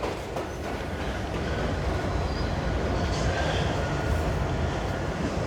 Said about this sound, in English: there's a train coming, so I've got to get off the track